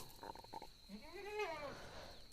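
A goat bleats once with a wavering, nasal cry, preceded by a few short clattering noises against a quiet outdoor background.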